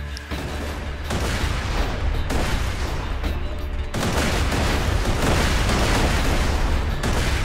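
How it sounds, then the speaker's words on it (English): Grenade blast in the shooter Borderlands 2: loud, dense booming and rumbling gunfire that carries through the whole stretch, with a fresh burst about midway, and no talk over it. "Grenade."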